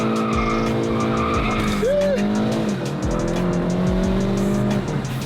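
A VW Golf GTI MK7.5 launches hard on a quiet road, engine revving loudly while the tires squeal in a long sustained screech with pitch shifts as it pulls away, close and loud.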